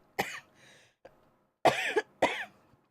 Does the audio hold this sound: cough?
yes